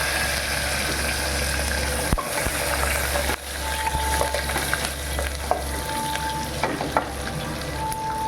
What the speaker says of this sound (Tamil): சின்ன வெங்காயம் பூண்டு நல்லா செவக்கட்டும்